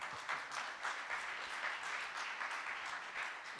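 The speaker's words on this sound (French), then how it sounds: "Merci, on les applaudit chaleureusement." Audience at an environment and climate awards evening applauding the winners, a steady wash of clapping from many hands with no pauses.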